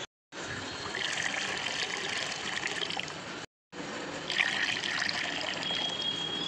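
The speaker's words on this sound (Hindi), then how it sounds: "तो इसे पानी को चेंज कर देते हैं पहले।" Birds' drinking water being poured out and replaced in a small garden: a steady trickle and splash of running water, close and moderately quiet, with a brief pause partway through.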